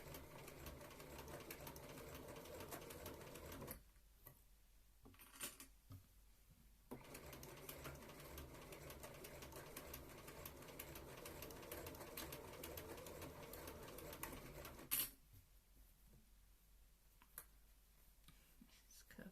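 A sewing machine stitches fabric for a Regency dress, with quiet, fast, rhythmic needle chatter. Short bursts of sewing break off with pauses near the start and again after a small click late in the run.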